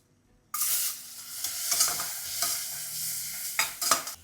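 Cinnamon, cloves, cardamom and onion hit hot butter and coconut oil and break into a loud, steady sizzle, with intermittent stirring scrapes in the pan and no voices.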